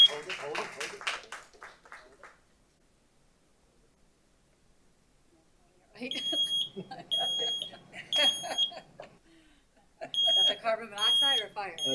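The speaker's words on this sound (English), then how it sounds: "This is a smoke alarm." Shrill smoke alarm beeps sound in short repeated bursts during a city commission meeting, alternating with people talking nearby; the beeping comes in two separate runs.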